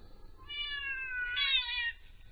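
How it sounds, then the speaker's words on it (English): Two cats meow one after another, close and clear: a rising meow, then a second, louder one from a cat washing its face with a paw, the two cries overlapping slightly in a quiet room. "the second one was Mouse meowing while she was wiping her face with a paw"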